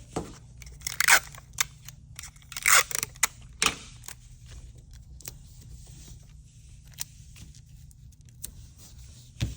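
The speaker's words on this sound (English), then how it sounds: "I'm just going to use some tape." Packing tape pulled from a roll and pressed onto the back of a handmade vintage-style intaglio art frame, heard as a few sharp ripping bursts early on, then quieter rustling and tapping over a low steady hum.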